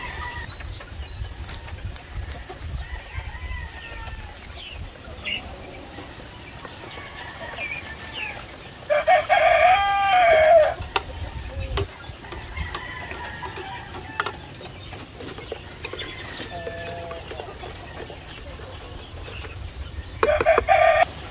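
Chickens, a Rhode Island Red and Black Australorp cross, cluck steadily in the background while a rooster crows loudly twice, once midway and again near the end.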